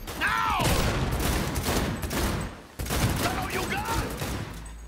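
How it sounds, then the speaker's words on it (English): Rapid gunfire from a weapon in the video game Cyberpunk 2077, loud repeated shots in two sustained bursts with a short gap between them. "I like the way that gun shoots, though. Feels like it's actually shooting out a round."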